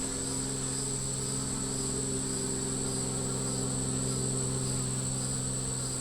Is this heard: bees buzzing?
yes